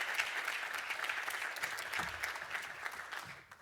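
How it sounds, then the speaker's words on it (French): Audience at the 99th Astee congress applauding the prize winners, a moderate wash of steady clapping heard from the room, fairly quiet and fading slightly toward the end. "On peut les applaudir, bien sûr."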